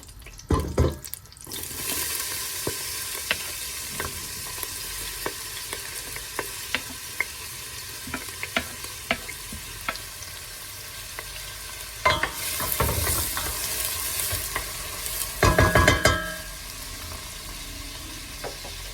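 Onions sauté in sunflower oil and butter in a pot, a steady sizzle punctuated by frequent clicking stirs, with a couple of louder bursts of scraping and splashing.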